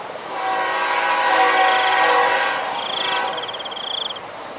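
A train passes along a railway track: a loud rumbling roll swells and fades over several seconds, joined near the end by a sustained high horn blast.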